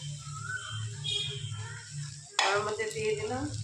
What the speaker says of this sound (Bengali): এবার আমি এঁচোড় আর আলুটা কড়ার মধ্যে দিয়ে দিলাম